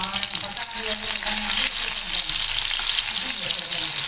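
Masala-coated fish pieces fry in a pan with a close, steady crackle and hiss that stays dense and unbroken throughout.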